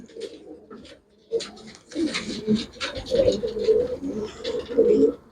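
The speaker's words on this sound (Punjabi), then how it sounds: "ਜਿਹੜਾ ਅਗਲਾ ਕਬੂਤਰ ਦਿਖਾਉਣ ਲੱਗਿਆ ਬਈ ਇਹ ਵੀ ਕਾਲਸਰ ਹੈ" A Kalsar pigeon coos in deep, throaty repeated phrases, close and fairly loud, building in a rhythmic series with a short pause near the start.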